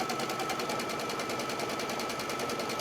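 An embroidery sewing machine runs steadily, stitching a box outline on stabilizer with a fast, even needle rattle that holds constant at close range throughout.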